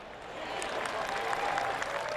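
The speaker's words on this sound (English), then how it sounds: "Oh, golf clap" A gallery crowd in PGA Tour 2K25 gives a polite golf clap, a steady patter of moderate applause that continues throughout, with a commentator's voice talking over it.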